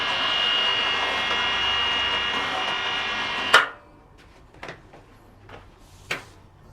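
An APR AP33PRO cordless impact wrench runs with a steady, high-pitched whir for a few seconds, then cuts off, followed by a few scattered light knocks and clatters.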